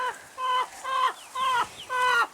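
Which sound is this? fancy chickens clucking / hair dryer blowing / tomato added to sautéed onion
fancy chickens clucking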